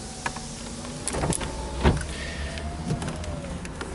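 Power windows on a 2006/2007 Volkswagen Gol G4 closing automatically as the alarm locks the car, a steady electric motor whine with a few clicks and thumps, fairly close and with no talk over it.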